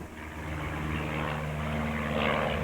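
Old Stinson propeller airplane drones steadily in flight out of Yarmouth, a continuous close engine hum with a slight swell toward the end and no talk.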